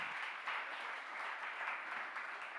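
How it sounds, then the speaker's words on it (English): Audience applause at a food-trails investors conference, a steady dense wash of clapping from a crowd that holds evenly for a few seconds without voices. "Please give them an applause."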